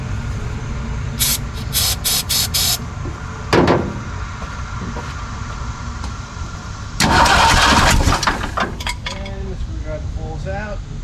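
A Ford 289 V8 cranks in short bursts with the choke held open, then catches and runs briefly with loud, rough revving close by, as someone talks over it.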